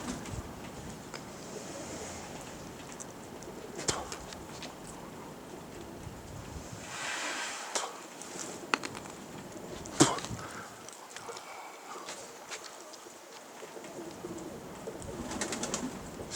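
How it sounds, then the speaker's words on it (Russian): A pigeon lands and coos amid a strong southern wind of about 15 m/s, soft cooing and wing flutters coming through faint gusts and occasional knocks. "Садится голубка, садится, ребята."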